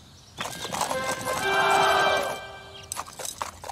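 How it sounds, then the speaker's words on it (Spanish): A horse in the video game Imperivm neighs in a loud, sustained whinny that swells mid-clip and fades, with hoof clatter and game ambience before and after. "¡Dadme el caballo más rápido!"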